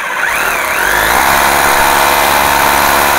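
Power drill boring holes in a wall to mount an AC switch board, a loud continuous whining drone that rises in pitch as it spins up, then holds steady alone.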